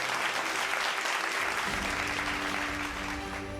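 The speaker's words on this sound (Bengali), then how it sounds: "একটু জোরে হাততালি হয়ে যাক সবাই মিলে।" A crowd at the Tribe TV Uttkarsha Samman 2023 award ceremony applauds steadily, producing a dense, loud wash of clapping that lasts throughout.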